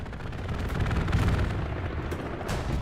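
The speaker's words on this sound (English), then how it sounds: "Oh, some machine gun fire." Machine gun fire rattles in a Hell Let Loose battle, a continuous rough stream of shots in a rumbling mix with booming, sustained throughout.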